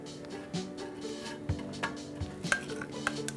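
A Reuben sandwich buttered on the outside is turned over in a pan, giving a few soft thumps and scraping clatters of utensil against cookware over a faint low sizzle.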